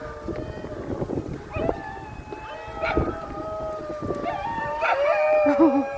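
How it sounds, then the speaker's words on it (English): Dingoes at a moonlit wildlife sanctuary howl in rising and falling wavering calls, several animals overlapping at moderate distance, with people murmuring quietly in between. "Oh wow, they're howling at the people."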